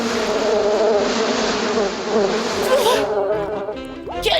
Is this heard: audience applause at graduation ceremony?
no